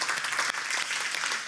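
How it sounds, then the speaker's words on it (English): A conference audience applauds, with dense, even clapping from a crowd at a moderate distance and no voices over it. "One applause"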